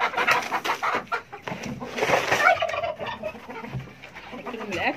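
A crowd of poultry clucks, gobbles and squawks nonstop close by during feeding on a rooftop, a busy overlapping chorus of bird calls.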